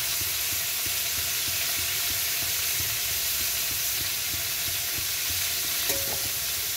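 Garlic and shrimp fry in a pan with a loud, continuous sizzle and hiss. A faint regular ticking of stirring runs underneath, and a brief tone rises near the end. No one speaks.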